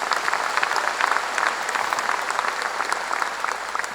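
A church congregation at a revival meeting claps together, a dense and loud patter of hands that holds steady throughout.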